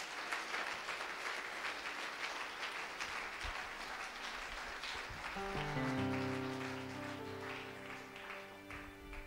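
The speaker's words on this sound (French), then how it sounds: "Acclamons ensemble la parole du Seigneur." A church congregation claps together at a French-language service, a steady broadband patter of applause filling the room for several seconds, joined partway through by sustained keyboard or organ chords underneath.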